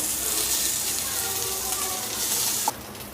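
Chicken pieces go into a sizzling pan with curry leaves and sautéed onions for restaurant-style chicken 65. A loud, steady, hissing sizzle fills the clip, then drops abruptly near the end.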